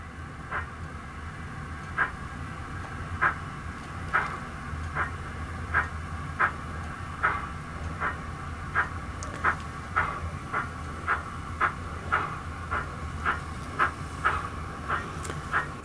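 A model locomotive runs on a DCC layout driven through an NCE PowerCab, giving a faint steady hiss and hum with regular light clicks repeating roughly every second, like wheels crossing rail joints, with no talking.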